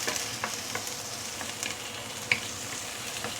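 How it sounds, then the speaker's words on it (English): Shiitake mushrooms sauté in a hot pan with a steady, close sizzle. Light stirring scrapes and taps break in now and then, with one sharper clink partway through. "shiitake mushroom. Let's saute it a bit."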